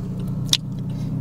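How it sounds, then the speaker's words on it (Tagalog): A manual car creeps uphill on the clutch, with its engine giving a steady low hum throughout and a single brief click partway through. "Kailangan suportahan nyo na ng gas para tuloy-tuloy po yung pag-ahon ng kotse nyo."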